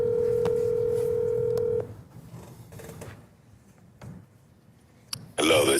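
Touch-tone telephone dialing while calling a real estate agent: a steady dial tone for nearly two seconds, then a few soft, sparse tones and clicks, ending with a loud burst of ringing or line noise.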